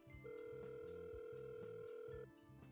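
Electronic phone ringtone from a visual novel game, Doki Doki Blue Skies: a steady synthesized tone over a pulsing melodic pattern, loud and close, lasting a couple of seconds before cutting off.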